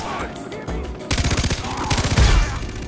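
Gunfire in the video game Far Cry 3, loud rapid bursts of automatic shots that start after a quieter moment and continue densely to the end.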